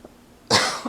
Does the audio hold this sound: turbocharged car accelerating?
no